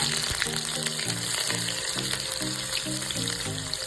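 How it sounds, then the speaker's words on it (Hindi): Chopped onions and cumin seeds sizzle steadily in about two spoonfuls of hot oil for an Odia market-style suji upma, a dense continuous frying hiss with no voices and some faint background music. "जीरा हमारे भलरे हो जाइए, एबे हमें ता भीतर प्याज पकाइबा।"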